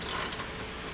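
A ratchet tightens one of the main bolts on a World War II tank in Australia, giving a brief burst of quick metallic clicking, close and fairly quiet.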